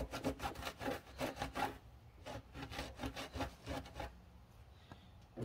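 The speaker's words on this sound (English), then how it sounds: "Next thing I'm gonna do is wipe it down." A cloth wipes down the body of a 2004 B6 Audi A4 after debadging, making quick rhythmic rubbing strokes close by, then slower, softer passes.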